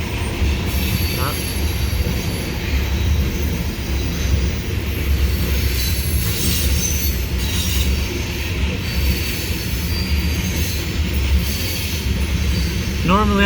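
A CSX freight train with an SD70MAC rebuild locomotive as a mid-train DPU rolls past at night, loud continuous rumble with wheel squeal and clickety-clack of passing cars.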